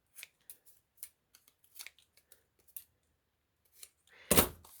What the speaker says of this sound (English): I'm just cutting out around this one.